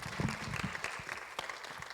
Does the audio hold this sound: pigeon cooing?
no